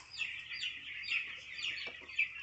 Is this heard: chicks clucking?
yes